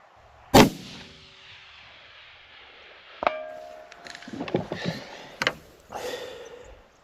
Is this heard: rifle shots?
yes